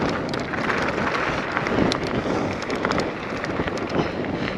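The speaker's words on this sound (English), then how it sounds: "Still having to pedal downhill because of the wind" Strong, constant wind roars and buffets the microphone while mountain biking downhill, a dense, gusty rush with no voices.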